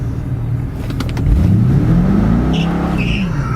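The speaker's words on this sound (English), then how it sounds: "All right, total wheel spin." A 1998 Chevrolet Corvette C5 convertible pulls away from a green light with wheel spin, its engine note rising steadily as it revs up under acceleration, heard loud from inside the car along with faint tire and road noise.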